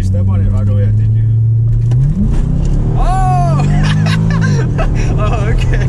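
A Chevrolet C6 Corvette accelerates loudly from inside the cabin, the engine note climbing as the gas is pressed, holding a strong rising drone before easing off, with voices talking and shouting over it.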